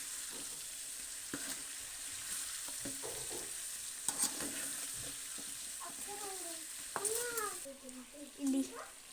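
Potatoes frying in a pan for a dry fry, stirred now and then with a utensil, giving a steady low sizzle and scraping stirs, with scattered clinks and a few brief background voices.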